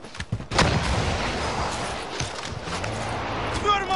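Video game gunfire cracks in quick bursts during a multiplayer match, sharp shots over steady battle noise with players talking over it.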